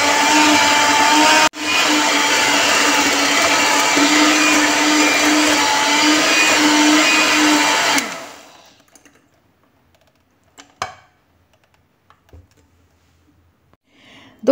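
A blender whirs through diet lemon dessert cream, loud and steady with a high whine, briefly pausing once, then stopping after about eight seconds, leaving quiet kitchen clicks and taps.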